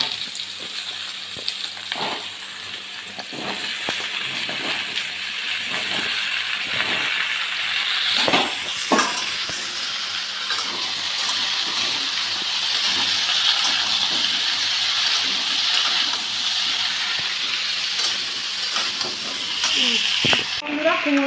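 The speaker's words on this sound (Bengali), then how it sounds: "কুমড়ো আলুটা ভেজে নিই" Pumpkin and potato frying in a pan with whole spices, sizzling steadily throughout while being stirred, with occasional scraping knocks and clatters from the utensil.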